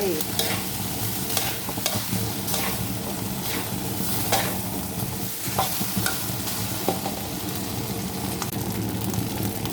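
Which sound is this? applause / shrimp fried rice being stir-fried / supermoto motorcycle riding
shrimp fried rice being stir-fried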